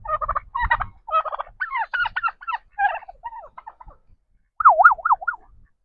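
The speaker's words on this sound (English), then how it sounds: "Getting turkeys to gobble." Turkeys on a farm gobble in several loud, rapid, warbling bursts close to the microphone. A short pause comes before a final wavering gobble.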